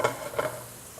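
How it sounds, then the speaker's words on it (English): Butter sizzles softly in a pan for soup, with two quick stirring scrapes over the steady frying hiss. "I'm going to take some butter. That looks about like enough butter. And I'm going to let it saute."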